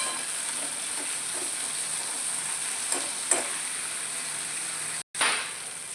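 A pan of vegetables with drumstick flowers, cooked for a curry, fries with a steady soft sizzle while a spoon scrapes and stirs now and then, with one sharper clink and a brief drop near the end.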